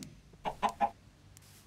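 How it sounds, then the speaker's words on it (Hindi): Chickens in a video game let out three short, quiet clucks in quick succession. A soft extra cluck follows near the end. "तो मुर्गी को तो नहीं मारेंगे।"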